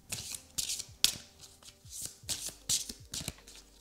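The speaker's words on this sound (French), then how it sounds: "Je vais mélanger les cartes" Small tarot cards are shuffled by hand in a series of quick riffling bursts with soft pauses between them, close and fairly quiet, with no voices.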